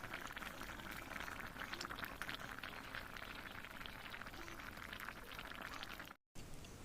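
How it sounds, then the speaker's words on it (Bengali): Chicken curry simmers in a pot at a village cooking spot, giving off a steady close bubbling and frothy crackle that runs on without pause, broken only by one brief dropout. "এই যে অল্প অল্প ফুটতে শুরু করেছে, এখন এটাকে যতক্ষণ না মাংস সেদ্ধ হবে 20 মিনিট মতো ফুটিয়ে নেব।"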